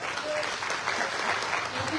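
An audience at a business seminar in India claps steadily throughout, a dense, even burst of applause that fills the room, with a voice talking faintly underneath.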